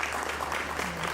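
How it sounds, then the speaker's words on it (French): Audience applause at the Africa SME Champions Forum 2025, a business conference, with a steady wash of clapping across the hall, moderately loud and continuous with no voices. "Sous vos applaudissements, s'il vous plaît."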